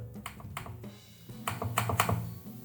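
Soft keys on a Lenovo LOQ 15IRX9 gaming laptop click in short irregular bursts, close by and fairly quiet, with brief pauses between runs of typing.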